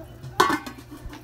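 A lid clanks down onto a pan of simmering garlic, onion and soy sauce for an eggplant steak dish, one sharp metallic clink followed by a faint rattle.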